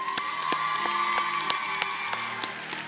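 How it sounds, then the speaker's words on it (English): A crowd applauding faculty at a nursing white coat ceremony, steady dense clapping with scattered sharp claps, a sustained tone and voices running underneath throughout. "And one more applause for our faculty as they're seated."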